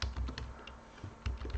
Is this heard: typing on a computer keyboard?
yes